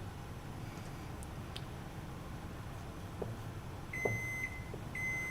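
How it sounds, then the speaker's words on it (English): Kitchen oven beeping to signal it has finished preheating, a few faint electronic tones sounding near the end over steady room noise, distant and quiet. "So that's the sound of our oven being ready."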